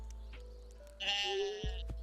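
A single short sheep bleat from the Stardew Valley farming game sounds faint and close over a quiet background.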